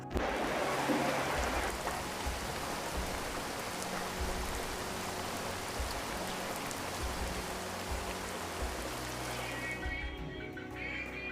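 Steady rain falls continuously, pattering on surfaces with an even, dense hiss and no voices.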